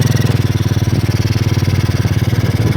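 A Honda Karisma motorcycle prone to stalling suddenly runs close by, its engine throbbing in a quick, regular pulse at a steady idle with no voices.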